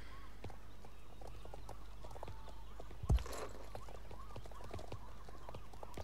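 Horse hooves clip-clop in the video game Star Stable, a steady, evenly spaced trot over a faint ambient background with one brief thump in the middle.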